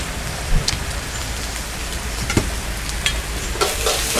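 Rain pours steadily while a wok stir-fries egg fried rice at a street stall; the sizzle runs under the rain hiss, broken by a few sharp utensil clanks near the start, middle and end.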